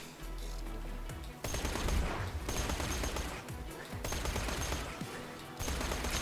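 Rapid bursts of a shock SMG firing in the video game Borderlands, dense automatic fire broken by short pauses, loud and continuous over a low rumble of game sound.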